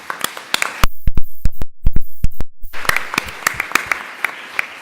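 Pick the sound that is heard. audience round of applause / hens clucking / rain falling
audience round of applause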